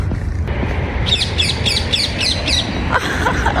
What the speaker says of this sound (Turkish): normal kuş değil öyle karga marga değil bunlar yeşil yeşil